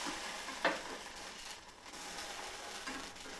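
Soft, even sizzle of food roasting in ghee in a pan, with a single brief clink near the start, heard fairly faint and close without any talking.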